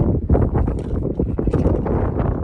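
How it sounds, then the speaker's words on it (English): Gusty wind buffets the microphone on the exposed summit of Mount Madison, a loud, rough, uneven rushing that surges and dips across the moment with no voices. "It's a bit windy up here"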